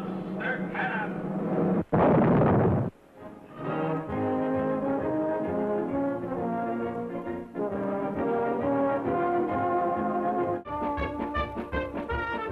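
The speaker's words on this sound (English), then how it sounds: "Donaldo and Silvana Zamini, shot from the mouth of this monster cannon." A single loud booming blast from a circus cannon bursts out suddenly amid brassy band music, which then carries on steadily afterward.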